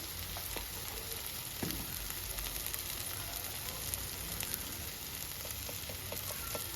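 Spices with salt, chilli powder and turmeric fry in a pan for a small fish curry, giving a continuous, even, moderately quiet sizzle with faint stirring clicks throughout.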